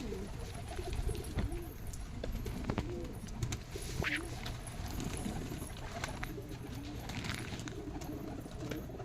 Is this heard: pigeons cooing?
yes